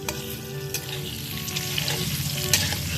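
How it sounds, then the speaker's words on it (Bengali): Chicken pieces fry in a pan over a wood fire at a rooftop picnic, giving a close, steady sizzle with stirring scrapes and a few sharp clinks, no talk. "হালকা করে একটু ভেজে নেওয়া হয়ে গেছে"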